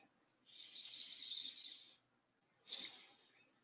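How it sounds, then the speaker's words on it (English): A person takes two slow, deep breaths close up: a long, airy breath lasting over a second, a brief pause, then a shorter breath, with nothing else heard. "So I invite you to add oxygen, to breathe."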